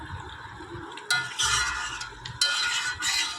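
Chicken curry stirred in a pot over a high gas flame, with a low simmering sizzle broken by several loud scraping strokes of a spoon against the pot, close and alone.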